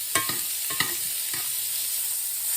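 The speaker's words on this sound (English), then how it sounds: "I just want to get a sear on these." Meat sears in a hot pan, giving a soft, steady sizzle broken by a few sharp scraping and stirring clicks near the start.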